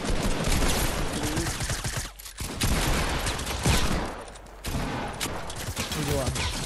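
Rapid booming gunfire and cannon blasts in the video game Fortnite, loud and dense with brief pauses, while a player talks excitedly over the barrage.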